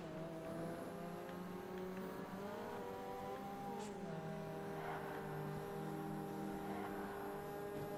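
Race car engines roar in the Ford Racing 3 video game, steady layered engine drone with shifting pitch as cars accelerate and downshift, a brief tire squeal, no talking.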